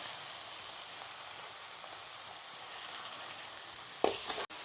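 Heron curry frying in a pan, a steady close sizzle with a brief burst of stirring scrape near the end.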